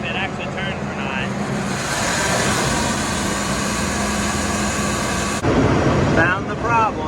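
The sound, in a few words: combine harvester separator running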